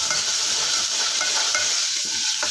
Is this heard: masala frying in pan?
yes